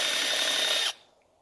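A hand drill spinning a small homemade wind generator, a close, steady whirring hum that cuts off abruptly and leaves a faint fading tail.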